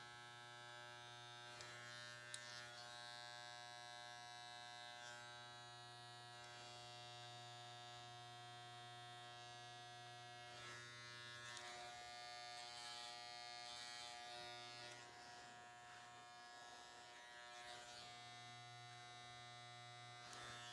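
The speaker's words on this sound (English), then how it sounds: "And then shave into it." Electric hair clippers buzz steadily and close up while shaving a clean outline on a short clipper cut, a continuous mains-like hum with scraping texture changing slightly as the blades move across the hair.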